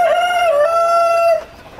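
A Tiger-breed rooster crows once, loud and close, in one long sustained call that breaks off abruptly. It rings out alone on a poultry farm with no talk.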